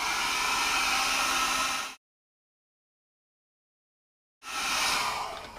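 A hair dryer blows over alcohol ink on Yupo paper, a close, breathy rushing hiss in two bursts separated by a few seconds of silence.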